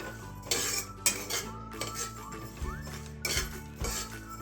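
Cumin seeds dry-roasting in a pan over low gas, stirred with a metal spoon that clinks and scrapes against the pan in irregular bursts, close and fairly quiet, with no talking.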